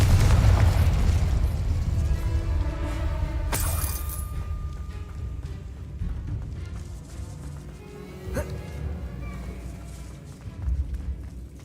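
A Confringo spell explodes in the video game Hogwarts Legacy: a loud, booming blast opens, then a long rumbling decay with crackling debris and a couple of sharp pops.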